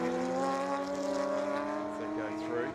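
Production race cars in the Sydney 240 scream past continuously with high, tonal engine notes shifting in pitch, loud and close throughout.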